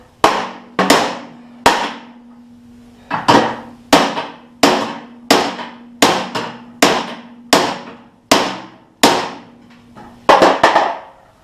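Steel fender off a 1954 GMC truck being hammered out during restoration: a string of about a dozen sharp, ringing metal blows struck close by at an uneven pace, with a steady low hum running underneath.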